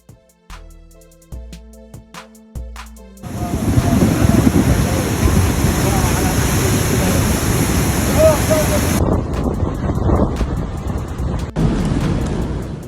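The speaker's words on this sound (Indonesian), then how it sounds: "Badai parah di Mekah." After a short musical intro, loud, roaring storm wind takes over in Mecca, blustering continuously with rough gusts for several seconds.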